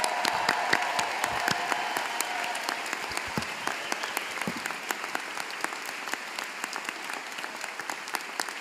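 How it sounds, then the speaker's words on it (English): A large indoor audience at a law school commencement claps in steady, sustained applause, dense and even throughout, with faint whoops mixed in. "Let's give a round of applause to everyone."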